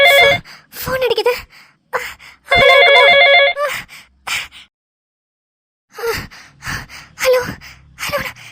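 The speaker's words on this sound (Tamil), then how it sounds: "போன் அடிக்குது." A telephone rings loudly in two clear bursts of electronic ringing, with breathy vocal sounds and short noises between and after the rings.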